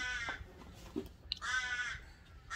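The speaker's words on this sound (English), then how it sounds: "The dulcet tones of a crow." A crow caws twice, loud and close, each a harsh drawn-out call lasting about half a second, with a few soft knocks and rustles in the pause between.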